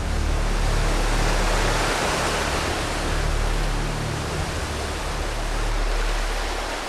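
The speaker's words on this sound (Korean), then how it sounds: "시간이 갈수록 점점 더 거세지는 파도 때문이죠" Loud, dense roar of rough, strengthening surf on the coast at Pohang, South Korea, a continuous wash of crashing water swelling and easing slightly with no voices.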